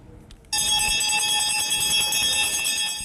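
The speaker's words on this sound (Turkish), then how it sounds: "40 yıl sonra zil yine onlar için çaldı." After a brief quiet moment, an electric school bell starts ringing loudly and continuously in a high school, a steady metallic clang that holds to the end.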